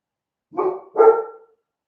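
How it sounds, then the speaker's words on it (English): A dog barks twice close by, two short loud woofs in quick succession with no other sound around them. "come on, you need to stop barking here"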